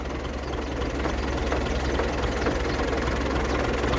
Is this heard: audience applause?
no